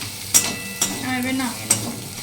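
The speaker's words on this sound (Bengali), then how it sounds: "আমার করলা পেঁয়াজ ভাজা হয়ে এসছে" Bitter gourd, potato and onion fry in a pan under a low, steady sizzle, broken by three sharp scraping knocks of a spatula stirring them.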